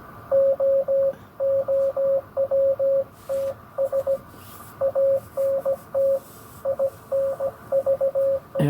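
A strong amateur radio signal on the 40-meter band: a single steady tone keyed on and off in short and longer bursts, loud and close, over a faint hiss of band noise, with no voices.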